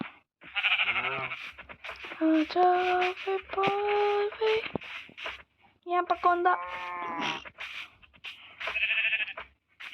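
Sheep bleating in the Minecraft video game, with several nasal, wavering cries in bursts among other farm animal calls, and someone speaking Tamil over them.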